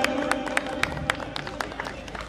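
Audience clapping at a Holi Milan celebration gathering, a loose patter of scattered claps over a low murmur of crowd noise, moderately distant and fairly quiet.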